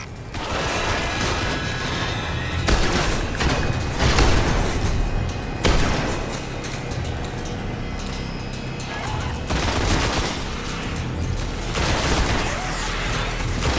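Shotgun blasts and other gunfire in the PS4 beta of the video game Destiny, several loud booming shots over a busy mix of game effects and mechanical clatter, fairly continuous.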